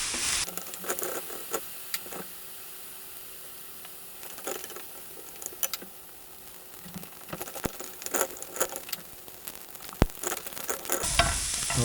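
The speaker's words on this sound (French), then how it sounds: "une fois que mes lardons ils sont grillés" Bacon lardons frying in a pan, a crackling sizzle with irregular pops and spatters throughout, joined near the end by a louder burst of hiss.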